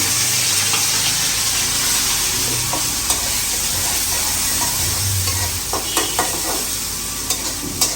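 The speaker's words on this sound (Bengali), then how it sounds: "চিংড়ি মাছ দিয়ে পুঁইশাক দিয়ে রান্না করবো তো ওইটাই আমি এখন রান্না করতেছি" Malabar spinach and shrimp stir-fried in a pan give a loud, steady sizzle, with scraping stirs and clatters of the utensil against the pan running through it and no voices.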